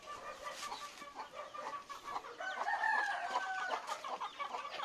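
Chickens cluck and murmur continuously at close range while eating papaya peels, with scattered soft pecking sounds and other birds faintly in the background.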